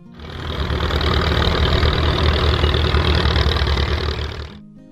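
A Ferguson TE20 tractor engine, the 1946–1956 Coventry-built farm tractor, running with a steady low rumbling chug that swells in, holds loud and close for several seconds, then fades out.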